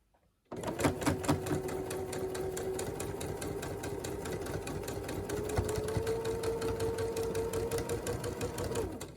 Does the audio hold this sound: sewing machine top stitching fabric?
yes